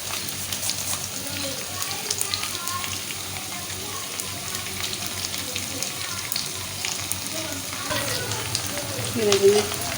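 Potatoes and onions sizzle steadily in a pan while being stirred, a soft continuous frying hiss with occasional scraping and a louder stir near the end.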